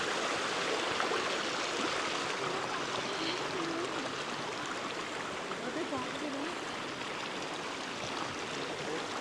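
Stream flowing beside a trail in Seven Ladders Canyon, Romania: a continuous broadband rush and babble of water, moderately close, steady for the whole stretch with no clear voices.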